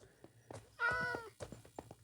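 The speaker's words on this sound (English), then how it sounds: "Cats!" A cat meows once, loud and drawn out, when a sword weapon is used in a modded video game; soft clicks and thumps from gameplay come before and after it.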